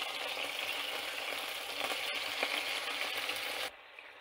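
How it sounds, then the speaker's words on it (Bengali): Chicken pieces frying lightly in a pan before Spanish paella is cooked in it, a close, steady hiss of sizzling oil with a faint utensil tap, cutting off abruptly near the end. "এখানে চিকেনগুলা কড়া করে ভাজা যাবে না,"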